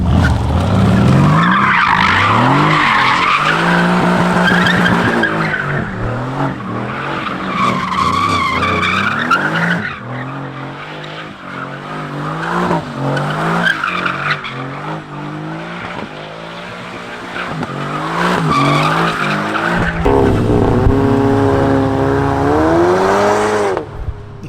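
Car tires squeal and skid almost continuously on a mountain road, with wavering high-pitched screeches over loud engine revving, rising and falling as the car slides through turns.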